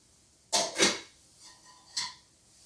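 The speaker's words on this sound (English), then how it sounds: "it's time to put the top on" A lid set onto a pot of cooking rice: two quick close clatters in a row, then a softer settle and a final light knock, alone in a quiet kitchen.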